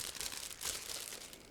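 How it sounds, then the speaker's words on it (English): A plastic bag holding model kit parts for a 1/48 scale T-90A tank is crinkled and torn open, a close, steady rustling and crackling that lasts about a second and a half. "now I'm opening another plastic bag"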